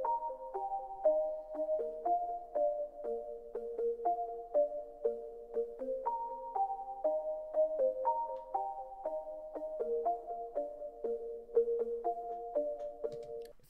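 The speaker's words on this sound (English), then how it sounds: "Today we're going to be learning how to make a dreamy pluck sound like this." A dreamy pluck synth patch built in Serum plays a soft, evenly paced melody of short bell-like notes that repeat and shift in pitch over about fourteen seconds, clean and alone.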